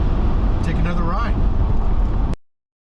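A Ford Bronco cruising along a road after snow flurries, a steady low engine and road rumble filling the cabin with a voice talking over it before the sound cuts off abruptly.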